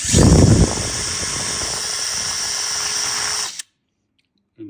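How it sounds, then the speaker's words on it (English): A power drill bores drainage holes in plastic cups for tomato seedlings, a steady close whine with a rough grinding start, running about three and a half seconds before stopping abruptly. "I just take them and drill 2 holes for, so the plants can drain"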